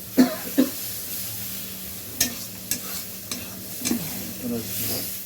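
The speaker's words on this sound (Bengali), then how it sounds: "এটা একটু জল দিয়ে ভালো করে কষিয়ে নেবো, তেল ছাড়া পর্যন্ত এটাকে কষাবো।" Thick masala paste being sautéed in oil until the oil separates, with a spoon stirring and scraping through it in a few distinct strokes over a soft, steady sizzle, close and moderately quiet.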